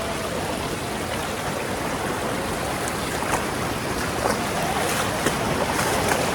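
Bhagirath Waterfall near Mumbai flows strongly after heavy rain, a loud, steady broadband roar of rushing water that fills the scene without pause.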